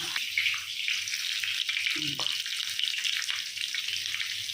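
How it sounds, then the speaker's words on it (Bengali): Papaya and potato pieces frying in oil tempered with black cumin and a dried red chili, giving a steady, close, bright sizzle that stays even throughout, with a soft thud partway through. "পেঁপে আলুটাকে ভাজছি"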